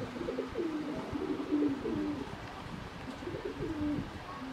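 Pigeons coo in a loft housing racer and Pakistani high-flyer birds, soft rolling calls repeating and overlapping steadily nearby, with no talk.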